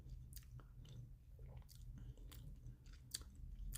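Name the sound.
chewing seaweed snack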